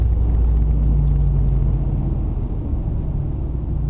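Nissan Titan truck with a swapped engine, blacked-out lights and tinted windows, running while driven: a steady loud low rumble and drone with road noise, no voices.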